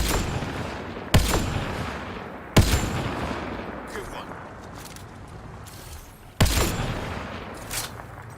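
Four widely spaced, sharp single gunshots with echoing decays in the sci-fi shooter game Mass Effect: Andromeda, set against quieter game ambience with faint voices.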